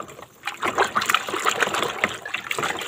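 Water runs from a tap during a nighttime kitchen cleaning in a home that cooks over wood, gushing and splashing close by after a brief quiet start.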